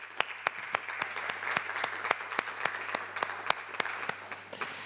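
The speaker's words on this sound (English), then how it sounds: "a very warm round of applause" Applause for speakers at the IAEA Scientific Forum on nuclear energy and climate, a hall audience clapping steadily with distinct sharp claps standing out against a faint background hum.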